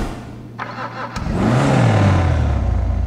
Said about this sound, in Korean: 제가 엔진 소리도 들어볼게요.